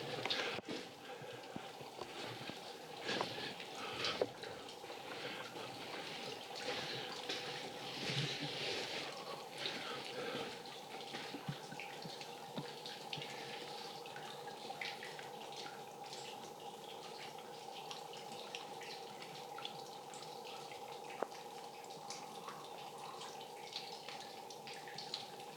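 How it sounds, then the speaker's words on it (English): Water drips inside Lake Cave, falling as scattered, faint drops over a steady low hum of still cave air, with no voices. "Thought I'd let you hear the water dropping."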